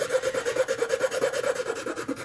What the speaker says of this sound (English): with our file the shape, especially on the bottom of the nut, in order to make it fit correctly.